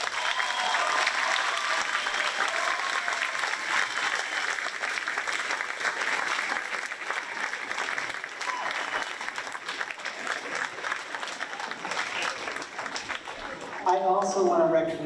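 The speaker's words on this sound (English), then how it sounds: "I'd like a nice round of applause for her" A school graduation audience gives sustained applause for a departing staff member, a dense wash of clapping filling the room at steady loudness, with a brief voice breaking through near the end.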